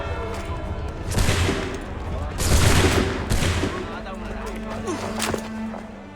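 A volley of musket fire in Assassin's Creed III, with several bursts of loud cracking shots clustered together and short gaps between them, followed by a low steady drone.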